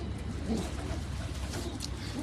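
Pigeons on a rooftop in Karachi coo softly against a steady low outdoor hum, with faint bird calls scattered through the short stretch.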